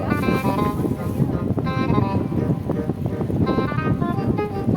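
Wind buffets the microphone in a constant rumbling roar, with faint bells or chimes ringing intermittently through the noise outdoors.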